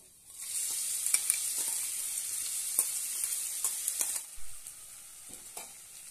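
Ground green chili paste sizzles steadily in hot oil with mustard seeds and cumin in a pan, a bright hiss broken by light scraping stirs and small pops, close and without talk.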